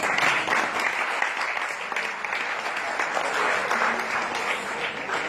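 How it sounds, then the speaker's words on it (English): A university audience gives a round of applause for student officers at a state of the university address, a sustained dense clapping that holds steady for several seconds, fairly loud and even, with no talk over it. "Can we give them a round of applause again?"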